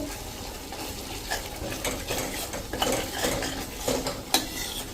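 A spoon scrapes and clinks against a pan as spices fry in oil for masala, a continuous busy stirring with faint sizzling underneath, close and fairly loud.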